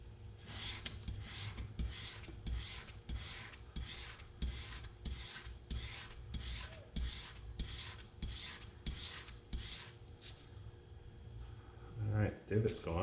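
A 1911 pistol trigger part is rubbed against 600 grit abrasive in a quick, even series of rasping back-and-forth strokes, close and steady for about ten seconds, with a brief clatter at the end.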